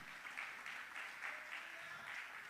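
A church congregation applauds for Christ with soft, steady clapping that rises in gentle waves, heard faint and somewhat distant.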